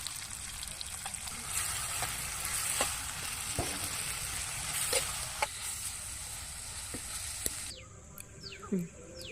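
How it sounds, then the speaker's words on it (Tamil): Onions and fennel seeds sauté in oil in a kadai, giving a constant soft sizzle with occasional stirring clicks. Near the end the sizzle drops away into quieter scraping and a few small knocks. "ஒரு கடாயில் எண்ணெய், சோம்பு, வெங்காயம் ஆட் பண்ணி வதக்கி எடுத்துக்கலாம்."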